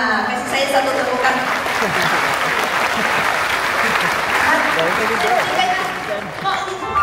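An audience applauds in a steady, dense wash of clapping that runs the whole length at fairly loud level and tapers slightly at the end.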